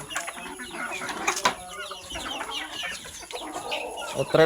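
A few backyard chickens cluck in short, scattered bursts at moderate distance, with occasional wing flaps and rustling over a faint steady background hum.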